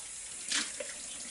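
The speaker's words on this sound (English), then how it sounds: "I'm going to rinse this bowl off." Kitchen tap water briefly gushes into a bowl to rinse it, a short splash rising and fading within a second against quiet room tone.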